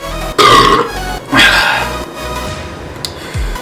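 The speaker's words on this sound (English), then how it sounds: "I'm gonna be burping." Two deep, loud burps come close to the mic after drinking banana with Sprite, each a drawn-out gulping belch, followed by quieter sounds.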